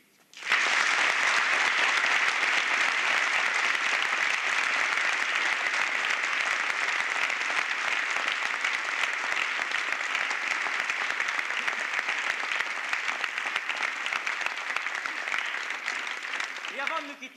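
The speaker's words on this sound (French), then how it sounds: "je tiens à ce qu'on les applaudisse tous dans un même élan pour les remercier de nous avoir aidés" An audience at an operetta breaks into sustained applause after a thank-you, a thick, even roar of clapping that starts abruptly and holds steady for a long stretch before tapering near the end.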